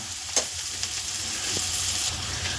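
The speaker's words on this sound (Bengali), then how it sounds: "এবার মিনিট পাঁচ কিলোর মতো ভাজবো ক্যাপসিকাম দিয়ে" Mixed vegetables with chopped capsicum fry for fried rice, a steady close hiss of hot oil with a couple of quick stirring scrapes and small pops.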